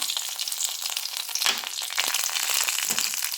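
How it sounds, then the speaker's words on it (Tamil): Mustard seeds, curry leaves and dried red chillies splutter in a little oil in a pan, a close dense crackling hiss with brief pops and a scrape of stirring partway through, no voices. "இது நல்லா பொரிஞ்சிருச்சு"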